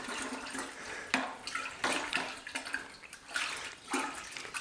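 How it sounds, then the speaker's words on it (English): Homemade wine must sloshing and swirling in a bucket as it is stirred after yeast is added, with repeated liquid surges and splashes, close and moderately loud, no voices. "let's take that opportunity to just go ahead and give it kind of a little stir"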